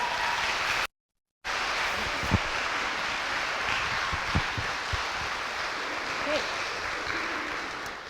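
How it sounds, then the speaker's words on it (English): Audience applause fills a lecture hall at an Appalachian literature conference session, a steady dense wash of clapping that holds for several seconds after a brief dropout near the start, with a few sharper individual claps rising above it. "So please give her a big round of applause."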